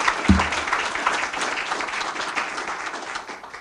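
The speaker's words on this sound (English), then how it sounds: "Can you please thank him a round of applause?" Steady round of applause from an audience at a meeting of officials, dense clapping that fills the room for several seconds with no voices over it.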